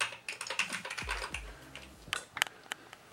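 Quick close-up keystrokes clatter on a Commodore 128D computer keyboard that has a faulty shift key, a short irregular burst of plasticky clicks with a couple of firmer thumps, faint and alone.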